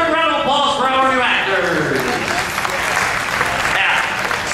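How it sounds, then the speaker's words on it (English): Audience applause fills a Sinbad stunt show at Universal in 2016, loud and sustained, with voices and cheering mixed in as a crowd claps for newly picked volunteer actors. "Hey, guys, have another round of applause for our new"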